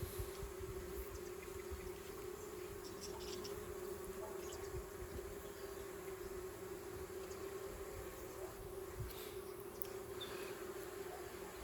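Honey bees hum steadily around a small hive made up of two combs plus an extra scoop of young bees, during spring queen raising; a continuous close, even drone with no talk.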